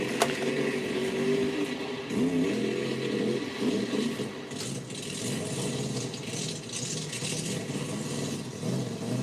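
A Radical monster truck with rear steer drives at a mud event, its engine revving and rattling with a rough, continuous roar that swells and dips over several seconds.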